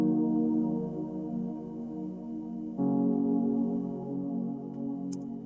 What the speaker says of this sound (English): I ended up using Spitfire Labs to make just a simple pad to kind of fill in a bit more space, which sounds like this.